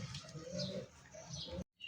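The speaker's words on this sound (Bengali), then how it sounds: "মাশাআল্লাহ অনেকদিন পর একজোড়া লাক্ষা কবুতর দেখা দিছে ভাই" A pair of Lakha pigeons kept for sale coos softly nearby in repeated low, rolling bursts, ending with a brief abrupt gap before more sound resumes.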